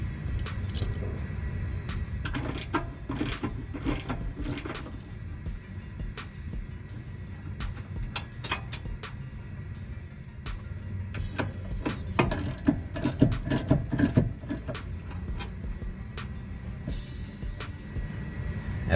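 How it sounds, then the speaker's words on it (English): A ratchet with an 18mm socket works loose the rear brake caliper bracket bolts on a Chevy Impala, giving repeated rapid clicking bursts with short pauses between them, close and fairly quiet, with no talking. "I'm going to use the 18mm socket and ratchet to remove the bolts the rest of the way"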